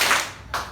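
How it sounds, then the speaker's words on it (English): Two short bursts of group hand clapping at a club meeting, the first one broad and full, the second one sharper after a brief gap. "And a lovely huge clap."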